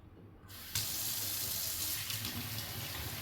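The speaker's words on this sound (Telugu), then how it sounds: "ఇలా ట్యాప్ కింద పెట్టేస్తే మట్టి, దుమ్ము, ధూళి ఏమన్నా ఉన్నా, సన్నటి ఇసుక అలాంటివి ఏమన్నా ఉన్నా కూడా పోతాయన్నమాట" Foxtail millet being rinsed under a running kitchen tap, the water starting with a soft trickle and then opening into a steady, loud rushing stream into a sink, close by, with no voices.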